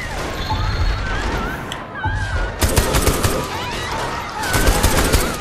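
Automatic gunfire rattles in Saints Row The Third, with two dense bursts of rapid shots over game background noise and scattered voices.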